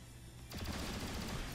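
A weapon opens fire in the video game XCOM: Chimera Squad, a sudden burst of rapid overlapping shots breaking out of quiet, then a dense crackling barrage that keeps going, fairly faint overall.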